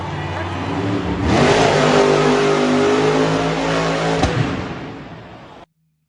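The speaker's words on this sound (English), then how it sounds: "So what you heard there was a throttle getting stuck open." A monster truck's engine with its throttle stuck wide open roars loud and sustained for several seconds, rising in intensity, with a brief sharp knock near the end before the sound cuts off abruptly.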